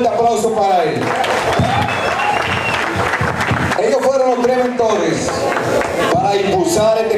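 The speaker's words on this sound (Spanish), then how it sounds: "el principiante Giovanni Peña, que también pide un fuerte aplauso para él" A crowd at a community sports ceremony applauds in steady, dense clapping that carries on for several seconds, mixed with crowd noise and voices.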